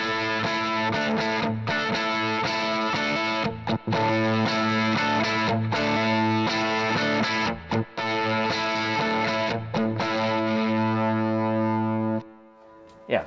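A heavily overdriven electric guitar plays sustained chords through an amp with the gain raised, comparing symmetrical and asymmetrical clipping; dense, loud distortion rings continuously with brief breaks before fading out near the end.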